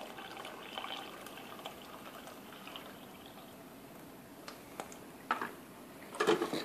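Water trickles steadily from a Keurig coffee maker with a pump problem into a cup, a low continuous pour with a few brief knocks and a louder splash near the end.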